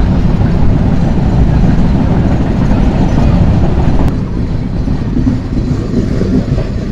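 A train rolls steadily along the Jamuna rail bridge line between Dhaka and Sirajganj as a loud, continuous rumble that dips slightly after a brief click, with no voices.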